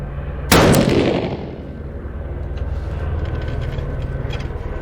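A single sharp 6mm Creedmoor rifle shot fired with Varget powder and a Berger 109 bullet, loud and close, with a booming tail that rolls away over steady outdoor background noise.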